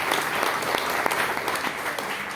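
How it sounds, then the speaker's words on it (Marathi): A crowd at a stotra singing program breaks into sustained, loud applause honoring their teachers, an even wash of many hands clapping close by for a couple of seconds. "तेव्हा सर्व या गुरुवर्यांसाठी जोरदार टाळ्या आपण वाजवूया."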